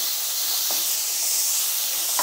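Sliced onions sautéing in a pan for vegetable cutlets, a steady broadband sizzle and hiss that holds evenly throughout, fairly loud and close, with no talking over it.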